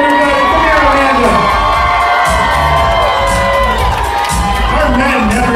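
A crowd at an awards ceremony cheers and whoops loudly and continuously, with shouting and applause blending into one sustained roar throughout.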